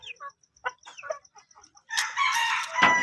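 A white Kelso rooster in a small cage gives a series of short clucks, then breaks into a loud, close crow.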